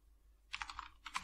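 Quick typing on a computer keyboard during a web styling tutorial, two short bursts of clicky keystrokes heard close up in an otherwise quiet room.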